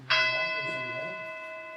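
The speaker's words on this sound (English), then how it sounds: "I'm undeniably hearing the sound of the gong" A single struck gong at a Buddhist retreat session rings out with a sharp attack and then a long, sustained metallic tone full of steady overtones that slowly fades. It rings alone with no voices over it.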